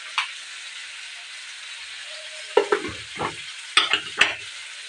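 Chicken fries in a pan under a low background hiss, with a few short bursts of crackle and stirring clatter spaced unevenly through the second half.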